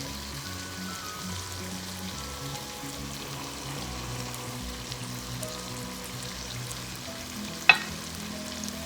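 Chicken frying in a pan with tomato paste and yogurt for biryani, a steady close sizzle with low continuous bubbling and one brief sharp clink near the end, no talking.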